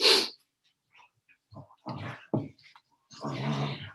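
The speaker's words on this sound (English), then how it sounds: "That's my dog, by the way." A dog breathes and growls close by in short irregular bursts of huffing and rumbling, separated by near silence, ending in a longer rough growl.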